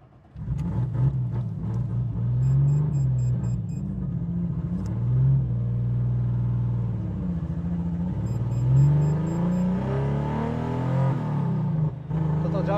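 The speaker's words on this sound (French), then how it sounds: "T'entends déjà un peu le turbo là, t'as vu?" A turbocharged BMW E36 rumbles as it drives, its engine note rising and falling with throttle. A faint turbo whine swells over the low, steady drone, heard from inside the car.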